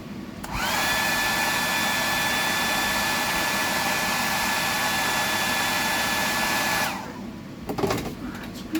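A hair dryer blows on a freshly painted bream fishing lure, switching on with a click into a loud, steady whooshing whine for about six seconds before cutting off, followed by faint handling noises.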